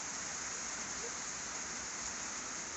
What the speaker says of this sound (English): this afternoon's just been kind of a steady rain till about 20 minutes ago, and it flat out opened up